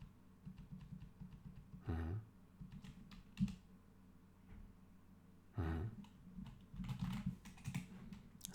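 Someone types on a computer keyboard in quiet, fairly close bursts of clicking, with two louder thumps and a busier flurry of keystrokes near the end, while nobody speaks.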